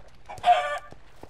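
A single short chicken cluck from Minecraft sounds close and clear, flanked by faint clicks.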